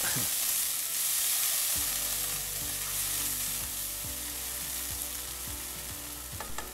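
Soy sauce and ground pepper sizzle in a hot pan while cooking chicken humba, a steady close frying hiss with soft scraping stir strokes repeating through it, no voices.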